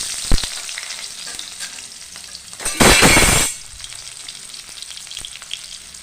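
Onions dropped into hot oil in a pan for an egg dish, giving a sudden loud burst of frying that lasts under a second and then settles into a low sizzle, with a few clinks before.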